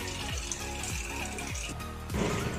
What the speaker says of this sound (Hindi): देखिए फ्रेंड्स अब ये पानी को इसने घुमाना शुरू कर दिया, मतलब कि इसने अंदर से इसको वॉश करना शुरू कर दिया।